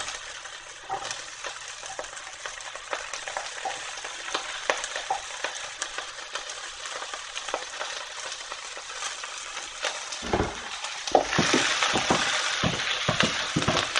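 Onion frying in a very hot pot for a chicken and vegetable stir fry, a loud continuous sizzle with crackles and stirring scrapes that swells louder toward the end.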